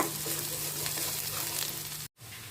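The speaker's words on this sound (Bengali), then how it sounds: "পেঁয়াজগুলো লাল করে নেব" Onions browning in a pan for a village-style fish dish give a steady, dense sizzle and crackle close by for about two seconds, then a brief silence, and the frying resumes.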